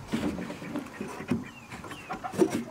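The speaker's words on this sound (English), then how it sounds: "See, look, that little chicken already wants to come in." A small chicken gives soft, scattered clucks near a coop, several quiet calls spread unevenly over a few seconds with light rustling between them.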